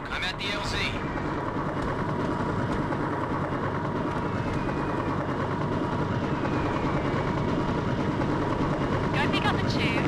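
Helicopter in the Mercenaries: Playground of Destruction video game, a steady droning rotor and engine roar held loud and unbroken throughout, with brief sharp game sounds at the start and end.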